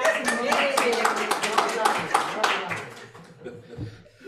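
Audience applause at a talk, a dense burst of clapping that thins and fades over a few seconds, with some chuckles and voices as it dies away.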